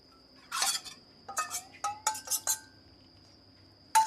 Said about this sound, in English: metal on metal scraping sounds